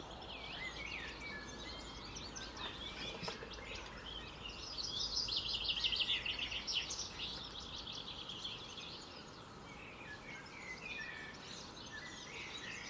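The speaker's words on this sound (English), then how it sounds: "Outside. Goldfinch." A goldfinch singing outdoors, a faint, distant series of twittering chirps that swell briefly in the middle against quiet background ambience.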